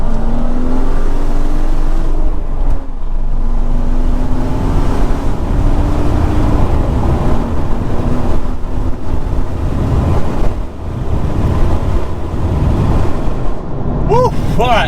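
Tuned BMW 135i with a limited-slip differential accelerating hard at full throttle, a loud continuous engine roar with rising pitch sweeps and gear changes, running close and steady throughout with a voice briefly heard.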